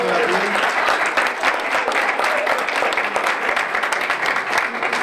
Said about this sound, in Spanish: Un aplauso para Sofía.